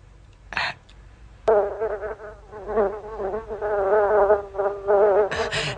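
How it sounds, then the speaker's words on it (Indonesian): A single housefly buzzes close by in a loud, wavering drone that starts abruptly and keeps going with small dips in pitch and level, alone without talk. "hamba sering terganggu oleh seekor lalat"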